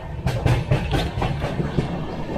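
The Mandovi Express runs on the Konkan Railway with a steady, rhythmic clickety-clack of wheels over rail joints and a continuous rumble of rolling coaches, heard close from inside the train.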